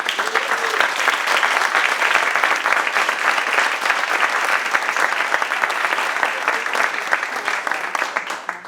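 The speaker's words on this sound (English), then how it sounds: "round of applause for a great camp." An audience at a portrait banner unveiling event claps in sustained, dense applause that stays loud and even for several seconds before tapering slightly.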